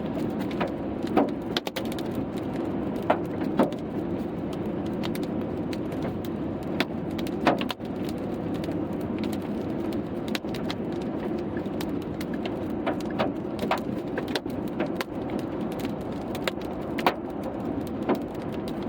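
Hail mixed with rain patters and pelts against a moving car's windshield, with scattered sharp clicks from hailstones over a steady rumble of road and wet tyre noise throughout, and no talking.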